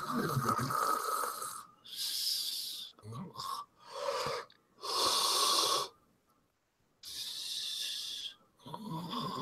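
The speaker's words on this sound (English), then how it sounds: "Did I hear someone snoring?" A person snores in long, rasping breaths with a wheezy, snorting edge, several loud cycles separated by short silences.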